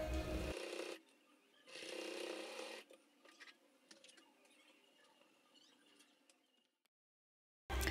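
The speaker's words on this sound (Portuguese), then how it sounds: "Eu tô virando para me passar a costura exatamente em cima da mesma linha." A sewing machine stitches a seam on a clear plastic pouch in two short, quiet bursts of rapid stitching. Faint handling noises follow, then silence.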